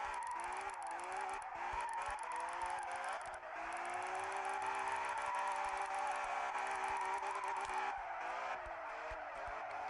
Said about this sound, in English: I'm loving the drifting in this car. Sounds awesome.